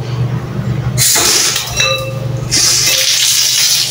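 Water gushes loudly from a household faucet fed by a shallow well pump with a bladder pressure tank, starting abruptly, easing briefly, then surging again, with a few faint clinks in between.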